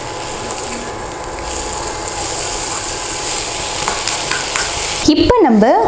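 Drumstick leaves sauté in a pan for ragi adai, making a continuous, fairly loud sizzle with light stirring scrapes. A brief warbling tone cuts in near the end.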